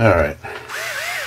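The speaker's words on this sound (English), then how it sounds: "I got my drill." A power drill whirs up briefly after someone speaks, its motor pitch rising and dipping as it runs close by during an RC truck rebuild.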